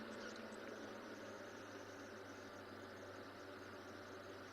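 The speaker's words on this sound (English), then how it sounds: "The rattle of the engine." A safari vehicle's engine idles with a low, steady rattle and hum, faint and continuous throughout with no break or change.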